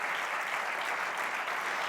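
An audience at a keynote talk on recovery from addiction breaks into loud, sustained applause, a dense even wash of clapping without voices.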